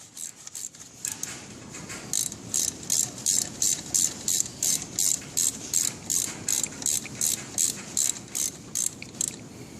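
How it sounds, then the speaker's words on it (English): Socket ratchet on a 2000 Pontiac Bonneville during a brake pad change, clicking in a steady, rapid run of short bursts, close and clear with no talk over it. "give me the ratchet. Yep. Click."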